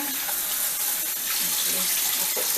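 Water runs steadily from a sink tap into a pot of rinsed rice, a close, continuous broadband splashing and gushing with no break.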